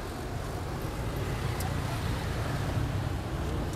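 Wind blows steadily outdoors at a busy food stall, a constant broad rushing roar across the whole stretch with no clear voices over it.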